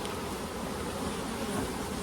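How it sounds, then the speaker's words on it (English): Half a dozen bees buzz close around a beekeeper inspecting and requeening hives, a steady droning hum that fills the whole moment without pause. "But now I've got half a dozen bees around me."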